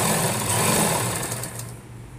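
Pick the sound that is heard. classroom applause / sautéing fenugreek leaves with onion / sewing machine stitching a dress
sewing machine stitching a dress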